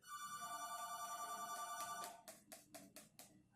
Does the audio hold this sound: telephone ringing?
yes